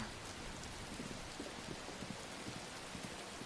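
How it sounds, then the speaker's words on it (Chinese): Heavy rain pours steadily in a constant dense hiss, a fairly quiet and even wash of falling water with no voices. "这才过几天啊，就下这么大雨"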